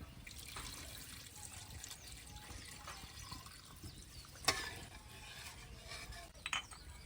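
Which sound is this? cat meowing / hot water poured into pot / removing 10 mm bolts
hot water poured into pot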